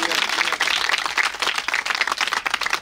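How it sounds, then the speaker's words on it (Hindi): A church congregation at a rosary prayer service claps loudly for the Holy Spirit, a dense wash of many hands over several seconds with a voice speaking through it. "जोरदार तालियां देंगे रूह कुद्दूस के लिए।"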